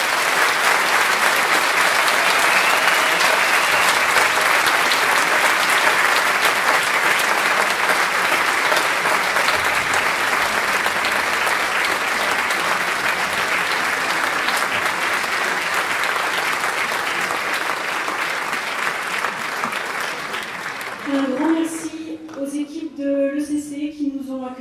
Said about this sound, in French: je pense qu'on peut encore vous applaudir.